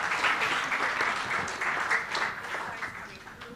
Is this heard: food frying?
no